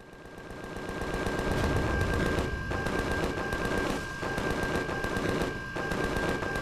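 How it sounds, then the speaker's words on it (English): Automatic turrets in the space survival game Empyrion Galactic Survival fire at swarms of enemies, a loud dense rattle of continuous gunfire with brief dips between bursts. "Our turrets are shooting off in every direction."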